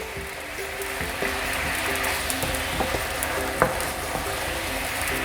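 Vegan MyBeyond product frying and caramelizing in a pan, a steady loud sizzle broken by scraping and stirring taps, with no talking.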